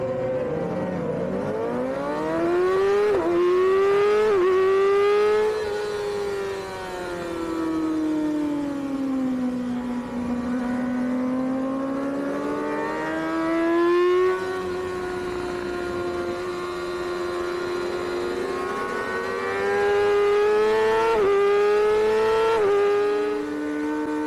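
Racing motorcycles at a CVMA Formula 40 Middleweight race start with a two-wave grid, engines droning loud and steady in rising and falling pitch sweeps as gears shift, the pack revving together with no talk.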